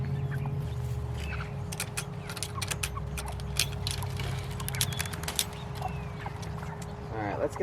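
Week-seven meat chickens cluck and scratch nearby in their pen, with sharp clicks and shuffling throughout, a constant low hum behind them, and a person talking over the birds.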